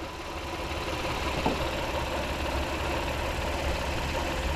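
A 2025 Acura MDX engine running with the AC shut off and the compressor pulley spinning, a steady close idle hum and whir with a faint tick, no talking.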